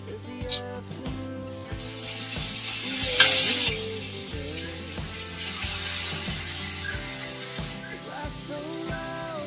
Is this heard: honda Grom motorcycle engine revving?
no